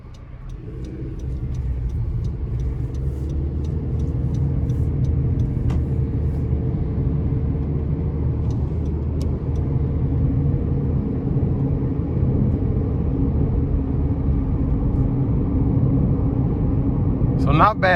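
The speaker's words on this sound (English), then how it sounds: "now it's time to go ahead and take the CR-V out on the road" A 2021 Honda CR-V LX cruises along the road with a steady, loud low rumble of engine and tire noise from inside the cabin, building after a quiet start and holding evenly throughout, with a few faint ticks.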